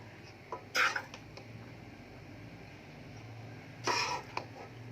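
Sweet and sour macaroni rice is served out of a cooking pot, with two short scraping clinks of a spoon against the pot, close but quiet, over a low background hum and no talk.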